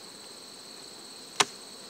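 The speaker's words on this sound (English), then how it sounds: "Bees are robbing left and right." Bees and yellow jackets around beehives during a robbing frenzy produce a steady high drone throughout, with one sharp brief click near the end.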